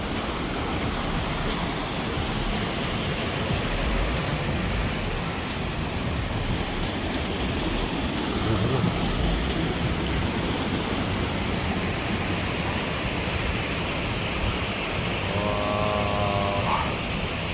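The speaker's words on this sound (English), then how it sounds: "This waterfall is so sick. It's so massive" A massive waterfall in Northland gives a powerful, continuous roar of falling water, broad and steady like heavy surf, with no pauses.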